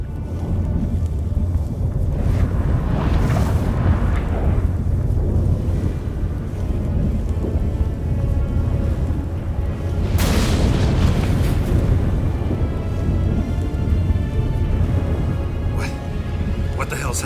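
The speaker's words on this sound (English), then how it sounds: "That a storm?" Stormy weather in The Witcher 3, a thunderstorm with rain: a steady roar of wind and rain with deep rumbling booms swelling near 3 and 10 seconds, continuous and loud throughout.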